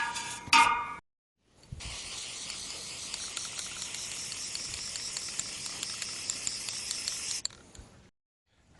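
Flat stove black spray paint hisses from an aerosol can onto an excavator muffler, a steady close spray lasting about six seconds after a short opening burst, with faint rattles under it.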